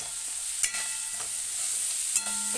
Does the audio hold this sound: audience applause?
no